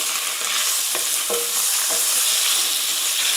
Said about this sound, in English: Oh yeah, that's already cooking up really nicely.